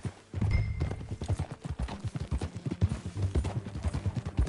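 Horse hooves clip-clopping in Red Dead Redemption 2, a steady run of close, distinct hoof strikes over ground, with occasional low rumbles and a faint whinny-like tone.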